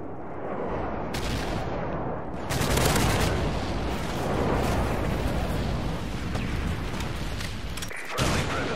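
An airstrike hits during Call of Duty Modern Warfare 3 multiplayer on the Bakaara map, with a dense, continuous barrage of explosions and gunfire rumbling and crackling throughout.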